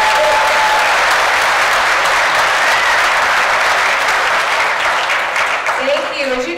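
Audience at a January company celebration bursts into loud, sustained applause and cheering that fills the whole clip, tapering slightly near the end.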